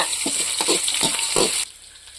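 Onions frying in a pan until golden, a loud close sizzle with rhythmic stirring strokes that stop abruptly near the end, leaving a quieter steady hiss.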